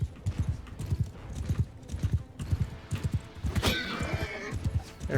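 A horse in the video game Mount & Blade Bannerlord gallops with steady rhythmic hoofbeats and lets out a loud whinny halfway through, all over a busy battle din.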